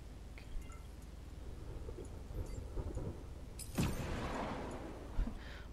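A thunder attack in the co-op game ChaosNova erupts as a sudden rumbling crash partway through, trailing off into a hissing, crackling wash over low steady game background, with a couple of softer thumps around it.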